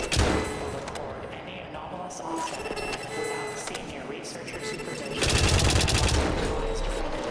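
Rapid gunfire in the horror game White Knuckle, a dense continuous burst of shots over game noise, growing louder toward the end while a player talks.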